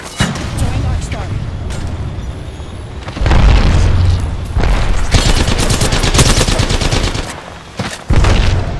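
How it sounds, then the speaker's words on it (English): Grenade explosion in the video game Apex Legends, a loud booming blast amid gunfire and game sounds, with a character voice speaking over the action. "Throw my grenade out."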